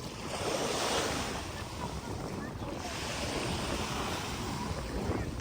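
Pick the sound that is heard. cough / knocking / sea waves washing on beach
sea waves washing on beach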